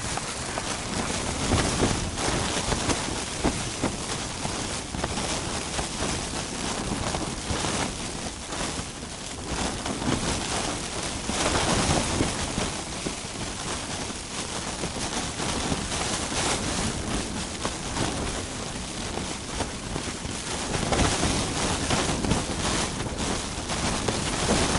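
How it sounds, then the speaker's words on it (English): High winds and heavy rain batter a tent outdoors while wild camping, a dense, loud, continuous roar of wind buffeting and rain drumming with no talking. "it's very wild, high winds, heavy rain, it's pretty crazy"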